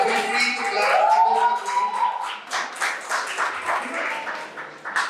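An audience in a talk-and-share session claps, a scattered burst of applause that thins out over several seconds, with voices mixed in.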